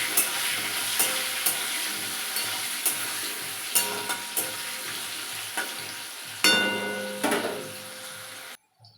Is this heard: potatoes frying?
yes